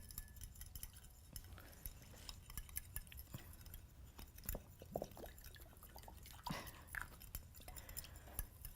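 Salad ingredients being stirred and mixed in a bowl, a steady run of soft wet rustles with light clinks of utensil against the bowl, fairly close and unbroken by talk.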